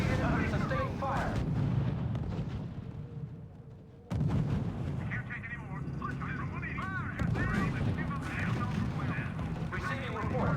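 Gunfire and artillery rumble continuously in the Xbox 360 strategy game R.U.S.E., with dense booms and crackling shots throughout. Radio-style voices talk over the battle noise.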